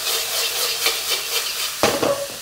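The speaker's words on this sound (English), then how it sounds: "letting the heat do something, which is to cook your bacon, and then occasionally just kind of stirring it" Bacon frying in a pan for Japanese fried rice, with a constant crackling sizzle and repeated light scraping strokes of a utensil stirring it, and a sharper clatter near the end.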